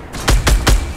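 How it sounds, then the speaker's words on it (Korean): Grenade launcher in Fortnite firing three loud, close, evenly spaced booming shots in rapid succession, with no talk over them. "와, 유탄 잘 쏜다"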